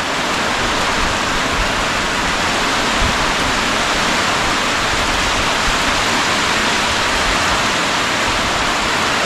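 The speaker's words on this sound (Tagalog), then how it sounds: "Ulan naman mga kapipinsya." Steady, dense rain hiss with no breaks, a constant wash of noise throughout, no voices.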